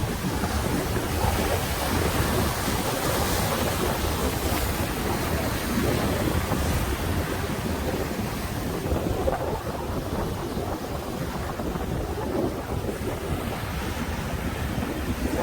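Continuous wind rush and lapping lake waves on Lake Superior's North Shore near Duluth form a broad, steady roar with no voices.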